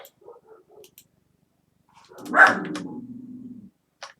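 A dog gives a loud, gruff bark followed by a sustained growling rumble, with faint softer sounds before it and a brief click at the end.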